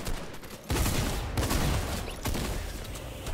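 Rapid Fortnite gunfire in a competitive Winter Royale match: loud, dense bursts of shots in several volleys, each lasting under a second, with game noise in between.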